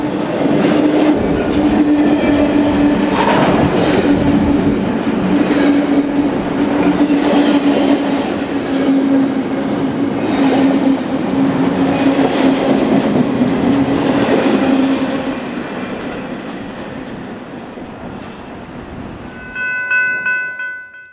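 An empty BNSF equipment repositioning freight train out of Elwood, Illinois rolls past close by, with a steady loud rumble and rail clatter for about fifteen seconds. The noise then eases off as the cars move away, and faint flange squeal rings at the end.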